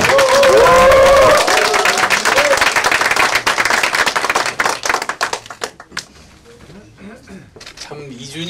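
An audience at a political party's second-anniversary ceremony applauds loudly as the party leader is welcomed onto the stage. The dense clapping fills the hall, then thins into scattered claps before a voice begins speaking.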